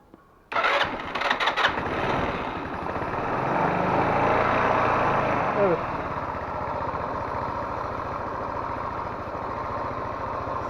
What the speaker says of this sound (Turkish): Ve şimdi bir marşa basalım bakalım.